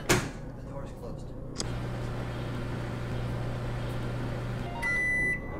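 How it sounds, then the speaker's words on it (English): A microwave oven running with a steady low hum after a door-like clunk, ending in a brief electronic beep, fairly quiet throughout. "let me get a shot of the microwave running"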